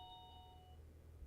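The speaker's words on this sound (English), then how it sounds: "that's my doorbell" A two-tone doorbell chime rings once indoors, its clear tones fading over a low steady background hum, with no talking.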